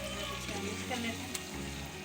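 Tomato paste stirred into a spiced chicken and chickpea curry, a steady soft frying sizzle with a few spoon scrapes, fairly quiet and continuous.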